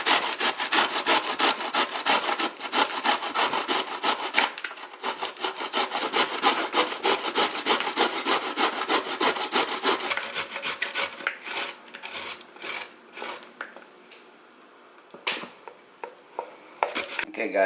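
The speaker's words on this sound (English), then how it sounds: "So we're going to grate it to a rice-like consistency." Half a head of cauliflower rubbed down the coarse side of a box grater into rice-sized bits, a fast rhythmic rasping scrape of repeated strokes, loud at first, then slowing into sparser strokes and pauses near the end.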